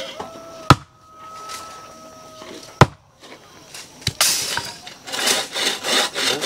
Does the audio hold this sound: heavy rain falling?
no